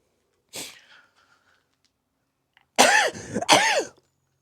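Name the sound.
sneeze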